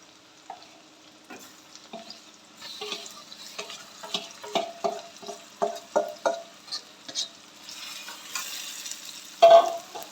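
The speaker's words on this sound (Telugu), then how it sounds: "చికెన్ వేసుకున్నాము." Marinated chicken frying for a spicy chicken curry, stirred in a hot pan: a soft sizzle with a run of rhythmic scraping strokes in the middle and a louder clatter near the end.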